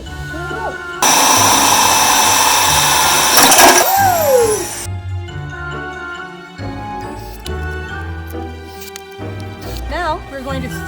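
Power drill boring a hole through a beer can for a wind chime, a loud steady whine for a few seconds that cuts off, followed by metallic handling and a person talking.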